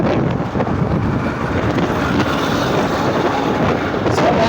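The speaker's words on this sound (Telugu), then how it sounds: "గాలి ఎక్కువ కదా." Strong wind buffets the microphone in a steady, loud roar that runs the whole time, with broadband rumble and gusty fluctuations and no talk.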